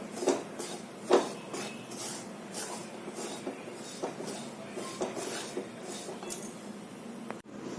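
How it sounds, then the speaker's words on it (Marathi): Semolina being roasted in a pan for coconut rava ladoos and stirred without pause, giving a steady scraping with light clinks of the spoon against the pan. It stays fairly quiet and close, with no talk. "सलग हलवायचं आहे मध्ये अजिबात थांबायचं नाही सलग घालून हे भाजून घ्यायचं आहे"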